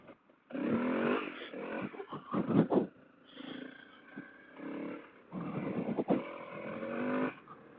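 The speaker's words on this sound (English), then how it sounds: "This is dirt bike riding at its finest." A Honda CRF250L dirt bike rides a muddy trail, its engine rising and falling in repeated bursts of revving with brief drops to a lower idle between pushes, close and fairly loud.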